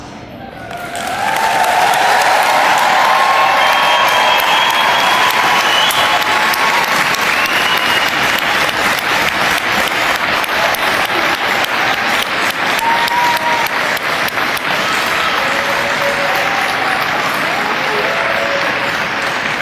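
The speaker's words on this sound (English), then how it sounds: "Another round of applause." Sustained applause from a large graduation ceremony crowd fills a hall, rising within the first seconds and holding steady and dense throughout, with a few scattered whoops.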